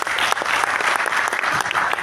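A business presentation audience in a hall applauds steadily, dense and fairly close, a continuous patter of many hands.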